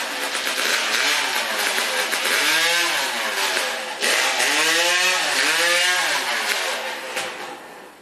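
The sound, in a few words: hot saw engine firing up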